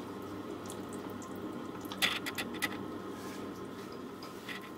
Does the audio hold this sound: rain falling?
no